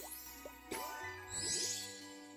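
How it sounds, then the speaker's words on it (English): Bells jingle in the HuniePop video game as a bright chime and tinkle, a short ringing flourish over soft game music. "Ooh, bells."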